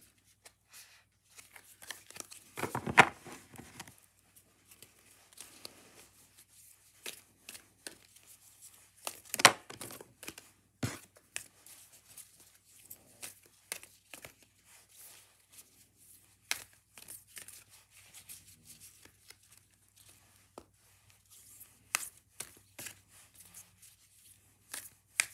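A deck of oracle cards being shuffled by hand, with soft intermittent riffles, slides and card snaps spread across a quiet room, a few sharper clacks standing out.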